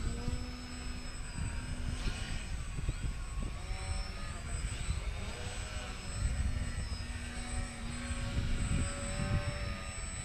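Small RC foam model airplane flying outdoors, its steady whining motor buzz running continuously through the clip at moderate distance, with occasional faint voices and background noise.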